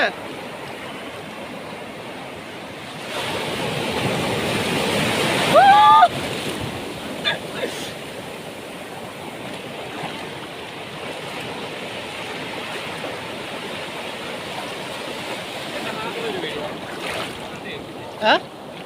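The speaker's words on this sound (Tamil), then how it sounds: "ஏன் அந்த சைடு அலை பெருசாக வருதுங்க" Large waves break at a beach suited to swimming, a constant broad roar of surf that swells for a few seconds, with a brief louder splash and scattered faint sounds on top.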